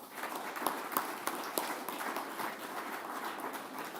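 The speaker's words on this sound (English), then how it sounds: "Let's have a round of applause for them." Audience applause at a sports awards ceremony honouring young high achievers, a steady dense clapping across the whole stretch with a few sharper individual claps standing out, fairly close and without talk.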